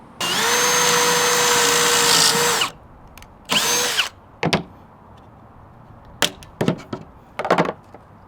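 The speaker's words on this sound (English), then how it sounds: "I'll be drilling the pocket holes for the baseboard" A power drill whirs loudly in a long burst, then a shorter one, drilling pocket holes in a wooden baseboard, followed by clunks and handling knocks as the workpiece is moved.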